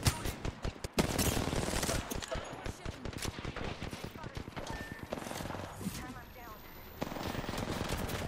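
Bursts of rapid automatic gunfire from a squad in a shooter game, sharp clustered shots recurring over several seconds, with a player talking over the shooting.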